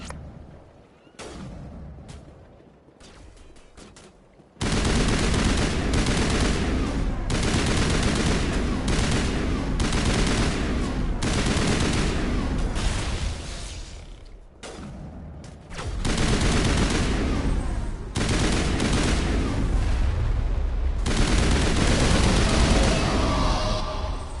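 Sustained crossfire in Mass Effect Legendary Edition: loud, rapid gun bursts and rattling automatic fire stack up almost without pause, with brief lulls between volleys.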